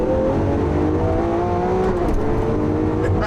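Sports car engine driven in Corsa mode on a racing circuit, revving hard after a gear shift, with a steady loud drone that climbs in pitch throughout, up close and uninterrupted, without speech.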